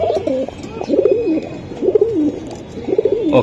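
A male Pankhi pigeon coos close by in a repeated series of low, throaty rolling calls, about four phrases in steady rhythm against quiet background chatter of other birds.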